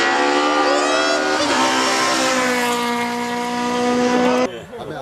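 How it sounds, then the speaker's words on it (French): At a hill climb at Gavray, a race car engine screams up through the revs, drops sharply where the driver misses a gear shift, then climbs again before cutting off. A commentator talks over it. "Il a raté une vitesse, Hugo."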